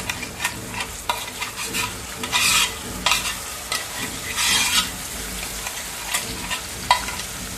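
Garlic, onion and tomato gravy frying in oil while being stirred, a steady close sizzle broken by repeated scraping stirs and a few louder bursts of spattering, with no talking.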